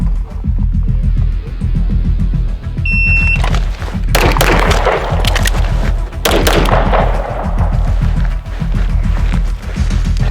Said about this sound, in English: It's literally just shooting 2 shots, 1 reload, 2 more shots